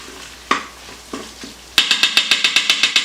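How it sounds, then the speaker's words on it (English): A slotted spoon scrapes the bottom of a stainless steel pot of beef bourguignon. A few scattered knocks are followed by a fast, regular run of loud metallic scrapes close by. "I'm just using a slotted spoon to scrape the bottom."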